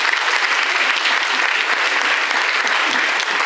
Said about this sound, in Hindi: एक बार शानदार ताली इस प्रोडक्ट के लिए।